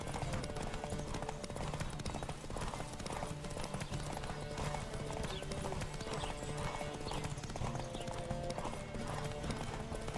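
Rapid, steady hoofbeats of a galloping horse in The Witcher 3 pound on without pause, with a brief whinny and a faint background hum.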